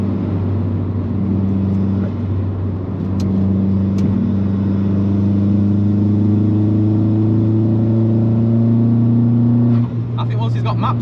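An old-school Vauxhall Zafira GSI with a fully forged engine drones loudly at steady high revs, a strong low hum that swells slightly mid-way, with a brief lift near the end.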